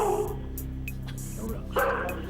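A dog yips and barks behind a closed door at an apartment entrance, muffled and fairly faint, with a few short bursts over a steady low hum.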